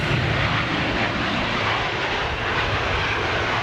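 A Gulf Air Boeing 787 Dreamliner jet departing, a loud, steady, broadband engine roar that holds close and constant throughout.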